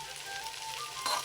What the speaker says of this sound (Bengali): এবার এটা নেড়ে ছেড়ে নেব।